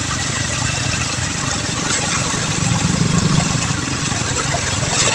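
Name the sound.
vehicle approaching on flooded highway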